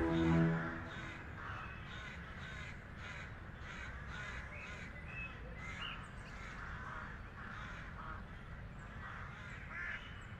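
Crow cawing repeatedly in a steady rhythm over a constant low rumble, the calls fairly close and clear, with no talking.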